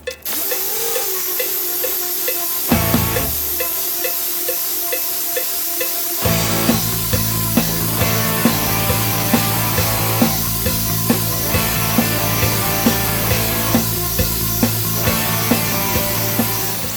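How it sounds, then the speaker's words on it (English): Dual-action sander with 80-grit paper working body filler on the hood of a 1992 Ford Mustang Fox body, a steady abrasive whirring hiss that runs almost the whole time, briefly easing around three and six seconds, with no talking. "I'll start with DA and I'll finish it off with a block."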